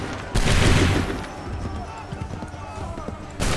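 Muskets fire in a sudden loud volley in the Assassin's Creed 3 video game, followed by a rolling, fading rumble with galloping hoofbeats, then another sharp burst right at the end.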